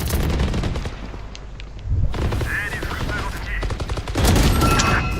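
Rapid video game gunfire crackling in dense bursts throughout, loud and close, with a player's voice talking over parts of it.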